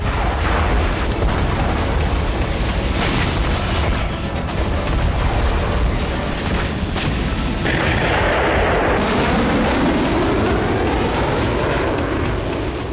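Russian artillery strikes in the Ukraine war, a dense and continuous barrage of loud booms and gunfire crackle. The blasts overlap with no pause, and a rumbling roar builds toward the end.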